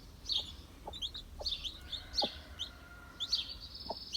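Hens cluck and chirp in a chicken coop with two newly hatched chicks, a series of short, fairly close calls and peeps repeating irregularly over a soft, steady background.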